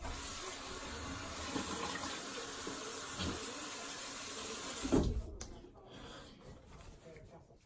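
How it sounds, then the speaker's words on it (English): Water splashes and runs steadily at a sink while a face is rinsed after a shave, then cuts off abruptly near the end, leaving a quieter room. "I'm going to rinse my face a little bit"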